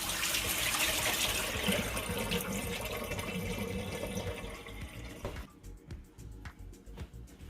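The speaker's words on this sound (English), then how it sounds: "Then I'm going to drain off the water." Water pours and splashes steadily out of a pot of washed beef, then tapers into a few drips and trickles as it empties.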